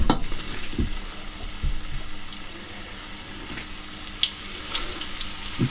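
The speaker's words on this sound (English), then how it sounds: "I'm going to put a pan on and heat the oil up, and then we'll get frying." Vietnamese bun cha meatballs fry in a pan of hot oil with a steady, loud sizzle, scattered pops and crackles, and the odd faint clink of a utensil. No one speaks.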